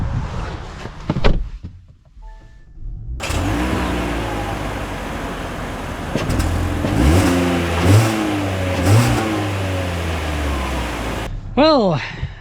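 A 2025 Kia K4 car pulls away and accelerates, its engine note rising and falling through steady road and cabin noise, heard from inside with someone talking over it.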